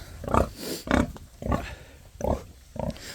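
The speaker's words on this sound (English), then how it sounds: "you have to make these little pig pens for your pigs." Pigs in a small pen in Tonga grunt close by in five evenly spaced, short, throaty bursts, with no talking.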